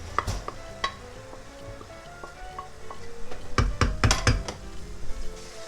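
Pork and smoked fish flakes (tinapa) sizzle in a pan for pancit palabok, with steady frying beneath scraping stirs and clinks of a utensil against the pan that grow busier and louder toward the end.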